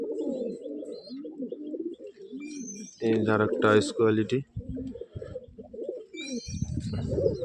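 Giribaz pigeons, including an old-line male, give repeated low, throaty coos close by. Someone speaks over and between the calls, and faint chirps come from the background.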